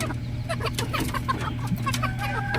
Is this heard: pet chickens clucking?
yes